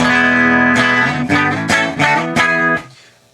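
Clean electric guitar notes and chords ring out through Hiwatt and Trainer amps on default clean tones, a sustained chord followed by several plucked strums that decay at the end.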